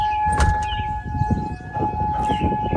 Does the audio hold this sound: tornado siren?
yes